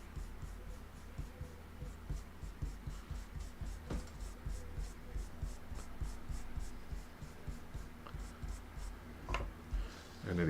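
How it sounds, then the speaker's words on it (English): Faint, soft rhythmic rubbing as wet blue paint is worked over card to make clouds, repeated strokes at a steady pace, quiet and close. "So you just need to just go on and rub this over."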